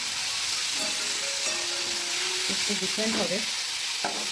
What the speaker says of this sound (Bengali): কুমড়ো আর বিট গাজর কুমড়ো আর বিট মিশিয়ে ভাজা করেছি